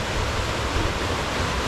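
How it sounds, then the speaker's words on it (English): Water flows from Juniper Springs, a dense, steady broadband roar close and loud, unbroken throughout with no voices. "A lot of water coming out of those springs."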